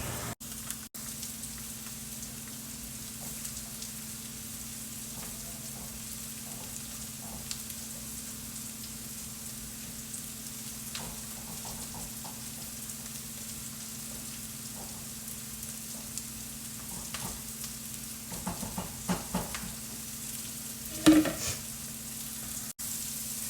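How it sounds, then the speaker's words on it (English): Chicken, onion and zucchini sauté in a pan with a soft, continuous sizzle and crackle, while occasional scrapes and stirring clinks, one louder near the end, break over the steady frying. "And let this saute, I don't know, maybe about 5 minutes."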